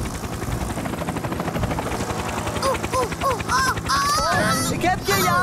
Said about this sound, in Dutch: daar is Tom met zijn helikopter